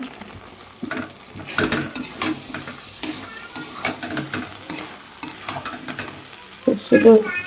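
Boiled ghugni being stirred in a hot pan, with close, repeated spatula scrapes and knocks over a continuous sizzle, the strokes coming in irregular bursts and ending in a louder clatter.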